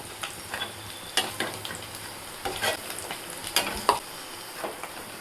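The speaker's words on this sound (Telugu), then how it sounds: "ఈ పన్నీర్ ముక్కలను అయితే 2 నిమిషాలు వేయించుకున్న తర్వాత ఇలా తీసేసుకుందాము." Paneer pieces fry in hot oil, crackling and sizzling steadily with bursts of popping as they are stirred in the pan, close and moderately loud.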